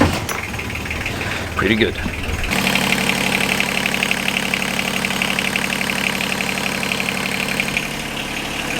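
Car engine after a head gasket change cranks briefly, then catches and settles into a steady, loud idle with a continuous rumble; a voice speaks briefly during the cranking.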